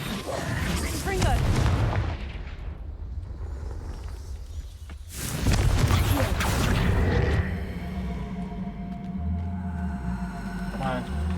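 Confringo, the explosive blasting spell in a Harry Potter video game, goes off as two heavy, booming bursts several seconds apart, each a loud broadband blast fading into rumbling debris and game ambience.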